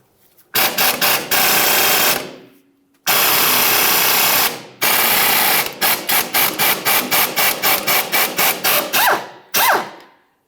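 A 14mm ratchet works a pinch bolt loose on a 2006-2012 Ford Fusion front suspension, giving close, loud bursts of rapid clicking, some long runs and then a string of short quick strokes, with no talk.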